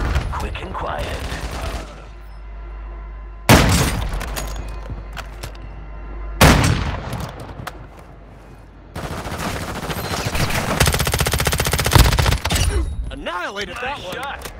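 Gunfire in Warzone Mobile, loud bursts of rapid automatic shots separated by quieter gaps, with voices talking over parts of the action.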